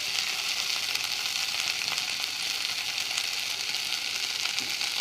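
Coriander and mint leaves sautéing in a pan, a continuous hissing sizzle at steady loudness with faint stirring, close up and without talk.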